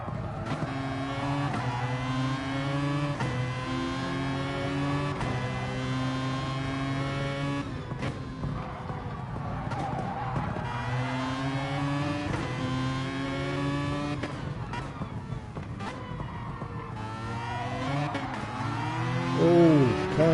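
Gran Turismo Sport race car, an LMP prototype, revving hard and accelerating through its gears in sweeping high-pitched engine tones with repeated upshifts, loud and continuous throughout.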